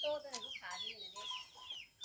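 Several short clucks from chickens close by, scattered across the clip with a high-pitched bird call mixed in.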